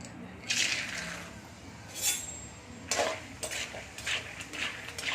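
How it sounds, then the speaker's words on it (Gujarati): Peanuts tipped into hot oil in a pan to fry for a crispy nylon poha chevda, with scattered clinks and scraping of a utensil against the pan over a steady low hiss, no talk. "તો આપણું તેલ ગરમ થઈ ગયું છે તો તેમાં આપણે સિંગ લઈ લેશું"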